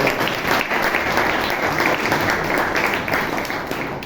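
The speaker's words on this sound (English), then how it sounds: "please give Kolappan a big round of applause." A room full of people at a Toastmasters meeting give a big round of applause, steady dense clapping that stays loud throughout and eases slightly at the end.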